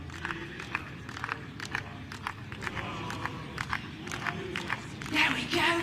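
Crowd of European golf fans at the Ryder Cup cheering and chanting at a distance, a rising roar with scattered shouts and claps, heard under nearby talking.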